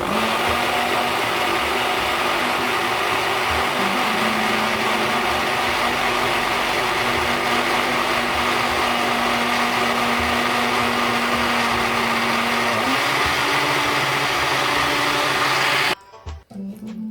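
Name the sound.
blender blending mint leaves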